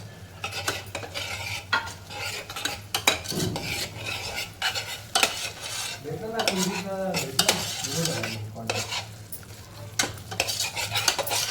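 Ground masala paste sautéed in oil in a pan over high heat for a spiced matki usal: continuous close scraping and stirring with a spoon over a soft sizzle, a steady busy texture throughout, no voices.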